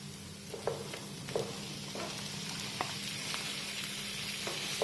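Bitter gourd and boiled jackfruit seed stir-fry sizzles steadily in a pan, with a spatula scraping and tapping against the metal every half second or so, close and even throughout.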